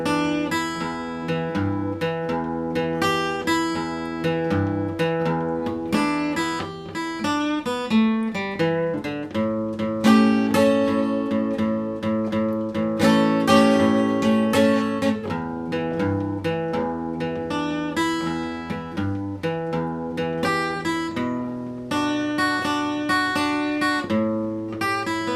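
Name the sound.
guitar playing 12-bar delta blues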